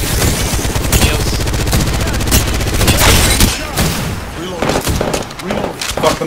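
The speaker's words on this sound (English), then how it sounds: "I shot him with a sniper" Rapid bursts of gunfire ring out in a shooter video game, loud and dense with overlapping shots and booms, while players' voices are heard alongside.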